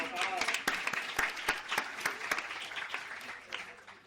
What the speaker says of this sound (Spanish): Yo creo que Pau se merece un aplauso.